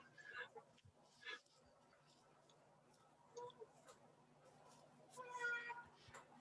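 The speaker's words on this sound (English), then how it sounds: "My cat is crying." A house cat meows faintly in the background during an online meeting. Several short cries and one longer wail come in irregular bursts amid quiet room noise and a low hum.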